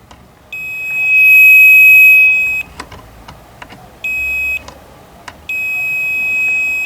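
A multimeter in continuity mode, used while wiring heated mirrors on an Audi A4 B8, gives three loud, steady electronic beeps of varying length separated by short quiet gaps and faint clicks.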